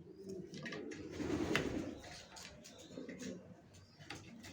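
Racer pigeons coo softly at close range, a low throaty murmur swelling and fading over a few seconds, with faint ticks and light rustling around them.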